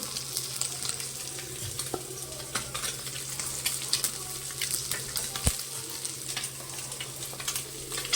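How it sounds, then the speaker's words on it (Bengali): Small mourola fish frying in oil for a Bengali fish curry, giving a steady crackling sizzle with scattered sharp pops and light clinks throughout, fairly faint and with no voices. "মাছগুলো ভাজা হয়ে যাচ্ছে"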